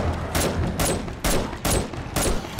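Bursts of automatic gunfire from the video game 7 Days to Die as a player shoots at a zombie, loud rapid volleys in four or five separate clusters with short gaps between them.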